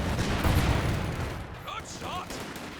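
SMG burst fire in a Company of Heroes 2 battle near a building, rapid clattering shots mixed with the wider din of combat and game sound effects.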